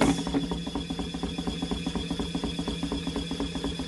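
A small foldable washing machine spins laundry dry with a steady, close, loud rhythmic whirring and clattering that repeats evenly throughout, with no talk.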